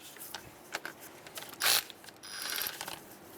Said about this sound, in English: What we can do now is actually move over to a electric tool, speed up the process.